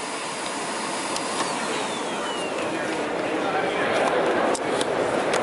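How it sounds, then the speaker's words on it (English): A Lindhaus Aria Elite canister vacuum cleaner runs at maximum power with a full bag check. It gives a steady, loud whirring roar that builds slightly toward the end, with a few short clicks and thin high whines mixed in. "the motor gradually steps up so you're not hurting or overstressing the motor"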